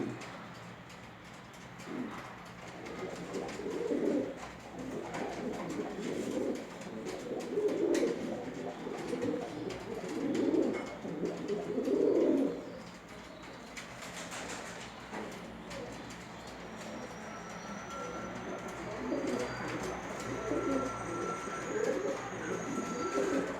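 Pigeons, a dove-like breed kept in a loft, coo in repeated soft rolling phrases over about twenty seconds, several birds calling close by with steady background ambience.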